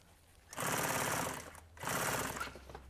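A sewing machine stitches fabric held flat under the fingers in two loud, steady bursts of rapid needle clatter separated by a short pause.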